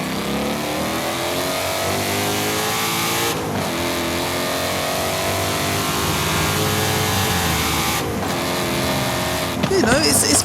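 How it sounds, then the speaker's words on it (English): Ford Mustang engine in the Forza Horizon 5 racing game, a steady mid-pitched engine drone with rising and falling revs and a couple of brief gear-change dips, loud and continuous, with a burst of higher revving near the end. "Here's what the Mustang sounds like in Forza Horizon 5."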